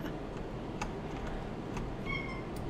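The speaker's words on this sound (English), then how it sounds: "the cat came inside, and the cat is not my cat, it's the neighbor's cat" A neighbour's cat meows indoors, a faint call over a quiet room with light ticking and tapping sounds.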